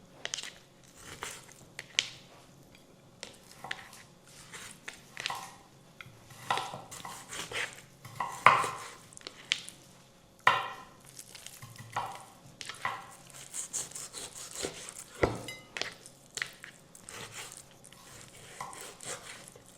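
A knife cuts meat into pieces on a board in a home kitchen, sending irregular sharp chops and taps at uneven intervals, close and moderately loud, with no talk.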